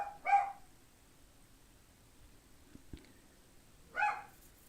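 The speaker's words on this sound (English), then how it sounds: "please ignore the barking dog" A small dog barks twice indoors, one sharp bark at the start and another a few seconds later, with near silence in between.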